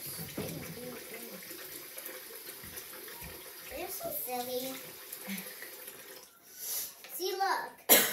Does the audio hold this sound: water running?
yes